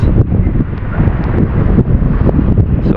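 Heavy monsoon wind by the sea roars continuously against the mic, a thick low rumble with gusty surges throughout, no voices.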